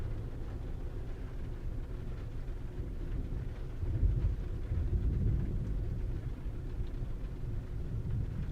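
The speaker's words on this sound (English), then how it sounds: "As you can see, the storm is moving in on us." Low, continuous rumble of thunder from an approaching storm, rolling steadily and swelling slightly midway, with no voices.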